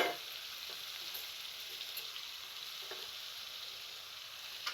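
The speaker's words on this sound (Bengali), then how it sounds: "আমি এই পর্যায়ে দিয়ে দিব মাছ। মাছটা একটু কষাবো সবজির" Kachki fish sautéing with soft cooked vegetables in a pan: a steady, close hiss of frying runs throughout, with faint scrapes of stirring and no voices.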